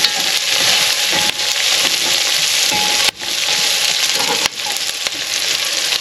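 Chicken and pork hit a hot pan for Filipino adobo, a loud, close, steady sizzle broken by a few sharp clanks and stirs.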